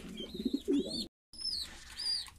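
Homing pigeons coo in a loft among young birds being weaned, with soft, close, repeated coos and a brief gap of silence midway.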